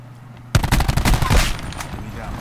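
Sudden loud gunfire in a Call of Duty Black Ops free-for-all match, a rapid automatic burst of close shots that tails off into echoing noise.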